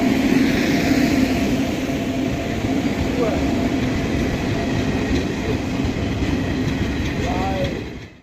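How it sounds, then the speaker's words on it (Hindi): The Janta Express passenger train rolls loudly into Bachhrawan station in India, a continuous heavy rumble with wheel clatter and squeals that holds steady before cutting off abruptly at the end. "सामने देख सकते हैं हमारी ट्रेन आ चुकी है"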